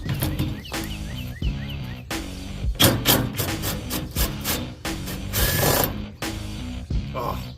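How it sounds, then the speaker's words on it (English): A rattle gun (impact wrench) rattles off fasteners during a turbo T-bucket body tub fit-up, in repeated short mechanical bursts close to the mic over a busy workshop background. "Love me a rattle gun."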